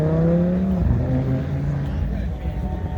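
Supercharged Cadillac CTS-V coupe at an outdoor cars-and-coffee meet, its engine giving a loud, droning growl that shifts pitch as it revs and then settles, with background crowd noise throughout.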